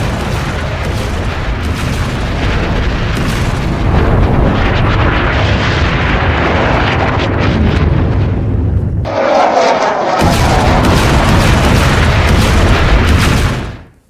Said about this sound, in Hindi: ये वो धमाका था जो खमनेई के ऊपर हुआ था